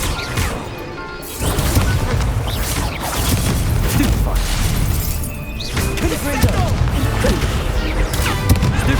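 Loud, dense spell blasts and crashing impacts from Hogwarts Legacy combat with Confringo fire spells, bursting again and again over a continuous roar of battle effects, with a voice calling out spells.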